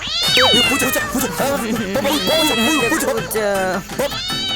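Loud, close cat meows, several drawn-out wails in a row, with voices and background commotion mixed in.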